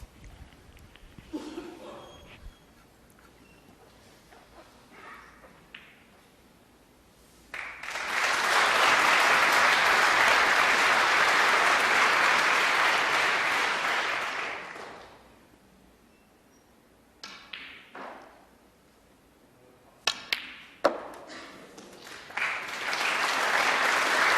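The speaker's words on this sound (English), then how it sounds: "There was a round of applause on the other table just as he was about to deliver the cue" During a snooker match at the 2014 UK Championship, a broad round of applause swells after quiet table sounds, holds steady for several seconds, then fades back to sparse clicks and murmurs.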